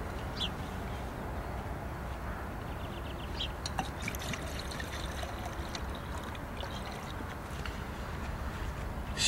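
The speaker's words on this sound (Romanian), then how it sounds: "Să punem de cafea," Water poured into a pot to make coffee on a camping stove, a steady close trickling pour running throughout without talk.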